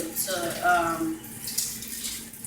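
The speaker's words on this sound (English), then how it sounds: "Always wash it with some cold water first" Cold water runs from a tap over food being washed in a kitchen while preparing pig feet, a steady close splash and hiss that continues throughout, with a voice talking over part of it.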